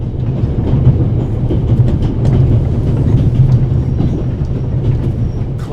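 A steam train crossing the Swiss Alps on the Orient Express in The Raven video game gives a steady, loud rumble with rhythmic wheel clatter and faint squeals running throughout, with no talk.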